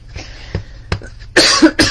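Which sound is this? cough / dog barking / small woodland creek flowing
cough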